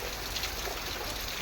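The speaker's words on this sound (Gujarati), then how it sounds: "ખેતરમાં વરસાદની મજા." Rain falling on a farm field, a dense, even hiss of drops close by with a faint trickle of water and no voices.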